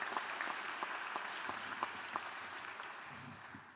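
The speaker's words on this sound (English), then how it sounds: "Let's give this group of graduates an applause" Audience applause for optometry graduates at a university convocation and hooding ceremony, a sustained steady patter of many hands clapping throughout, with a few sharper claps standing out, thinning slightly toward the end.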